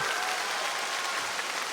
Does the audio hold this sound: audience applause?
yes